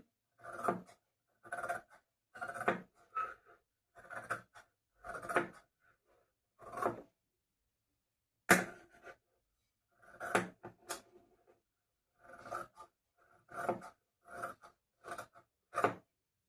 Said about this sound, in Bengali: বাড়তি কাপড়টুকু কেটে বাদ দিয়ে দিচ্ছি